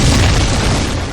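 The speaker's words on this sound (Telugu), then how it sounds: "కరెక్ట్ గా 9:25 కి స్టేజ్ కింద మనం పెట్టిన బాంబ్ బ్లాస్ట్ అవుతుంది." A bomb planted under a stage detonates in a film climax, a loud, dense low boom that fills the whole moment and slowly decays, with no voices.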